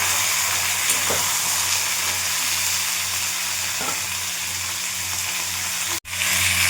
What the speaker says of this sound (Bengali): সামান্য একটু হলুদ আর অল্প একটু লবণ দিয়েছি তো মশলাটা আস্তে আস্তে ভাজা হচ্ছে